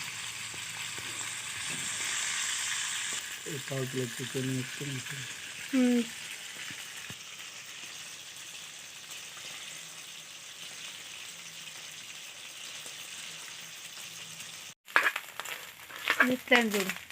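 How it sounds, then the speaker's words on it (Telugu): Fish fries in hot oil in a broad, steady sizzle for the whole span, with brief bursts of voices early on and a few sharp clattering knocks near the end. "ఇవైతే మంచిగా ఫ్రై అవుతున్నాయి"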